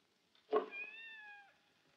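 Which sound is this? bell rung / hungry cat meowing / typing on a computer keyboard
hungry cat meowing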